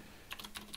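A few quick keystrokes tap on a computer keyboard, close and crisp, in a short burst of about five clicks with no talking.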